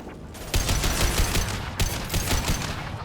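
Sustained automatic gunfire in the video game Mass Effect Legendary Edition: dense, loud overlapping bursts with a brief break partway through, and no voices.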